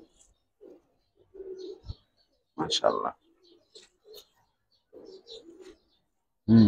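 Pigeons, a young breeding pair of Giribaz flying birds, give brief soft coos between a man's short remarks, with a louder thump near the end.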